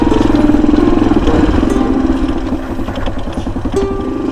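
Motorcycle engine idling close by, a steady low pulsing putter that holds even and loud throughout, with no talk over it.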